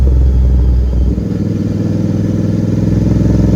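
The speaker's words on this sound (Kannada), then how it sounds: "ಥ್ರಾಟಲ್ ಕೊಟ್ಟ ತಕ್ಷಣ ಇನ್ಸ್ಟೆಂಟ್ ಪಿಕಪ್ ಎತ್ಕೋತಾ ಇದೆ ಗಾಡಿ ನೋಡಿ" A GT 650 motorcycle fitted with a performance air filter runs loud and close. Its low, throbbing engine dips briefly after a second, then settles into a steady, pulsing rumble.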